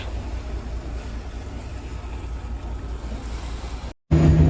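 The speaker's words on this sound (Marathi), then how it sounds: "आणि हा समुद्र" Sea waves wash steadily against a moving merchant ship at sea, a broad continuous rush mixed with wind buffeting the microphone, cutting out briefly near the end before resuming louder.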